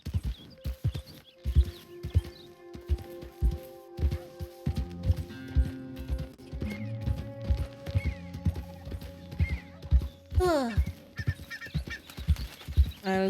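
Horse hooves clip-clop at a steady walking rhythm in the Red Dead video game, close and distinct, over sustained tonal game sounds and a brief horse snort.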